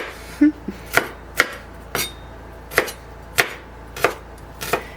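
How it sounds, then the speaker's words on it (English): A knife chops onions on a board in an off-grid forest homestead kitchen, with eight or nine sharp, evenly spaced thuds that are close and clear over a quiet background, with no talk. "And I cut my onions."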